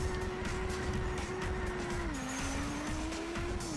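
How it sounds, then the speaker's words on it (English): Loud, continuous engine drone from a V16-powered racing car in a video game, its pitch holding steady and then sagging slightly before climbing again, with light tyre hiss beneath. "I think they have a V16 in that thing."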